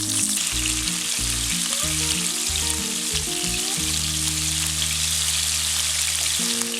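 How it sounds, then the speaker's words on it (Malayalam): Chicken pieces deep fry on a low flame in sunflower oil with a dense, steady sizzle and crackle, over a background of music. "ഇത് ഡീപ്പ് ഫ്രൈ ആണ് ചെയ്യുന്നത്."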